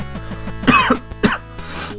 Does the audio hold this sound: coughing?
yes